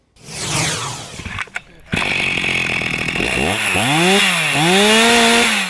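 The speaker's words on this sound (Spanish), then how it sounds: "un grupo de hombres armados con motosierras cortan los árboles de una vieja plantación" Chainsaws buzz loudly up close, cutting trees on an old plantation in Cuba under hot sun, briefly pausing before roaring back and revving up and down in repeated surges as they cut.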